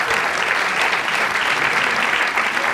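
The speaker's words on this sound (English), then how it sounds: "They applauded. Take the applause and move on." Audience applause at a live TimesTalks interview about Kinky Boots, a dense, sustained clapping from a crowd that stays loud and even across the whole stretch.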